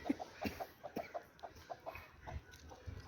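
An Aseel rooster chases a broody hen, giving a series of quick, soft, close clucks in an irregular rhythm over faint background noise.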